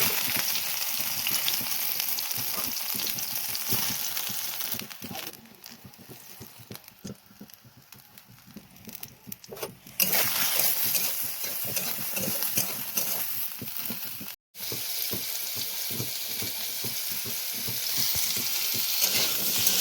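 Vegetable curry sizzling in hot oil as it is stirred, a steady crackling fry with scraping stirring strokes, louder and more vigorous in bursts, close up with no talk.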